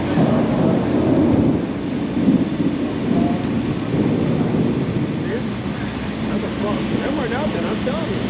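Heavy low rumbling thunder from a nearby lightning strike rolls on continuously amid wind and rain noise during a storm in St. Louis, with people talking excitedly over it.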